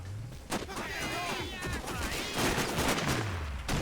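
Gunfire in the video game Sniper Ghost Warrior, with several sharp shots and bursts over a busy game soundtrack, loud and close, and faint talk mixed in.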